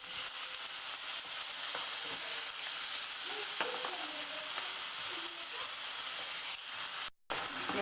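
Garlic, cumin seeds, tomato and green chili sizzling in a pan for a Pakistani aloo masala, a soft continuous hiss with occasional faint clinks and scrapes, fairly quiet, ending with a brief dropout.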